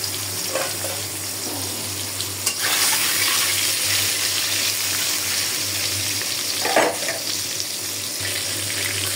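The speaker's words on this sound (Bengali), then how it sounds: "এখন আমি মাছগুলো ভেজে নিচ্ছি।" Rohu fish fry in a pan with a steady hiss and crackle, broken by a couple of brief scraping stirs.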